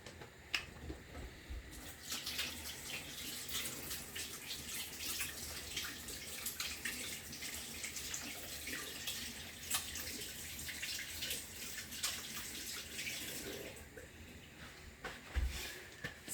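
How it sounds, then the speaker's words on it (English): Tap water runs steadily over hands being washed in a home kitchen before cooking barbecue chicken wings, a continuous rushing flow from about two seconds to fourteen seconds with a few soft knocks, no talking. "I've finished washing my hands"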